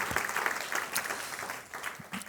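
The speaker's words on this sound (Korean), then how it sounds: "우리 그 풍성한 은혜 주시고 넘치는 감사 허락하신 주님께 박수 한번 하십시다." A church congregation at a Korean sermon service claps together, producing a faint, brief patter of hands heard from a distance without any talking over it.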